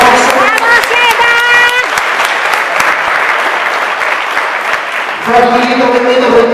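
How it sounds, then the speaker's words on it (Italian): Audience applause at an amateur boxing finals night in Badia Polesine, a loud, dense clapping crowd filling the space, with an announcer's voice over the start and end. "Un bel applauso."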